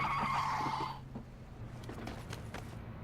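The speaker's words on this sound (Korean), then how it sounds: "차 소리 오토바이 소리" Vehicle sounds in the video game PUBG (Battlegrounds), a screeching tire skid at first, then lower car and motorcycle engine hum and scattered clicks.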